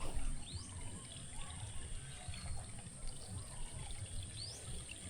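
Water draining out of a rice paddy, a soft continuous trickling and gurgling flow, faint and steady throughout, with no talk over it.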